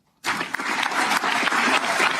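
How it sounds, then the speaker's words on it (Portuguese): Applause from a large crowd bursts in after a brief moment of quiet and continues steadily, dense and sustained throughout. "Tendo agora aplaudido Alexandre de Moraes"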